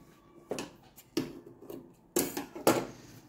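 Scissors snip through cloth scraps for a beginner's goat-design quilt, with four distinct crisp cuts spaced roughly half a second to a second apart, close and fairly quiet against a silent background.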